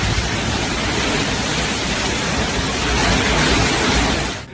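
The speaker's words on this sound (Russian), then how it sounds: "Шквалистый ветер с проливным дождем, сметая все на своем пути, обрушились на мексиканское побережье" Torrential rain and squally storm wind lash the Mexican coast at Nuevo Laredo, a loud, dense, unbroken roar that holds steady for several seconds before cutting off.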